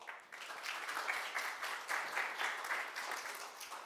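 An audience at a blockchain event applauds a program manager being introduced, with steady, moderately faint clapping that runs throughout.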